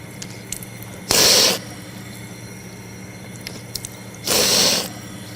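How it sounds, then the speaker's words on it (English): Water splashes twice during ablution while the nose is washed three times, each burst short and close against a quiet background with small clicks. "Then we should wash the nose 3 times."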